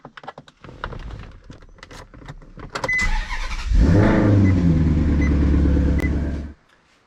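A 2014 Maserati GranTurismo engine cranks and catches after a few seconds of light clicks and rustling, then settles into a loud, steady, rumbling idle close by before cutting off near the end.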